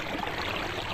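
A strong flow of water rushes through a rice paddy, a dense, steady, close gushing with no pauses.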